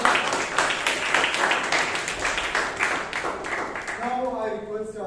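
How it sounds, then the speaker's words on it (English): Audience applause for Toastmaster Guru at a Bangalore Toastmasters club meeting, a steady wash of many hands clapping for several seconds before fading, with a voice starting to speak at the end. "Give a big round of applause for Toastmaster Guru once again."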